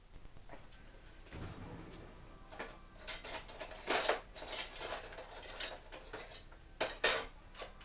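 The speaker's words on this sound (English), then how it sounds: "you want to get you a spoon or something, and you want to mix it all well together" Spoon stirring hot wing sauce made from Frank's RedHot buffalo sauce and Texas Pete in a dish, giving close, irregular clinks and scrapes that grow busier midway, with no talking.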